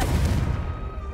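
One heavy, booming blast from the Confringo spell in Hogwarts Legacy hits at once and rumbles briefly before decaying within about a second.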